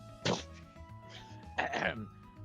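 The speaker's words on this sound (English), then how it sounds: "Sorry, I had a cough." Two short, muffled coughs or throat clears spaced about a second apart, close and fairly quiet, from someone during a casual gaming commentary.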